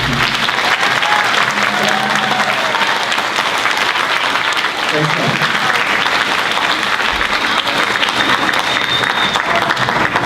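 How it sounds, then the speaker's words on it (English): Sustained, dense applause from a large audience honoring orchestra members at an Ohio Teacher of the Year event, loud and steady for the whole stretch with faint crowd murmur beneath. "I want to give a great round of applause to these orchestra members because they sound fantastic"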